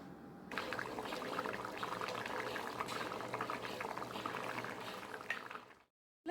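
Potato gravy with water added boils steadily in a pot, a dense continuous bubbling and simmering that stays loud and even before cutting off abruptly near the end.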